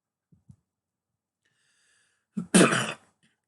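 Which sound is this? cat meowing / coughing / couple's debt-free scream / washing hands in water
coughing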